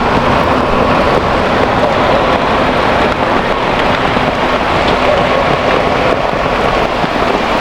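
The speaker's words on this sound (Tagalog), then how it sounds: "Lumakas ang ulan." Heavy rain falls hard and continuously in Gumaca, Quezon, Philippines, a loud, even roar of water drumming on surfaces close by.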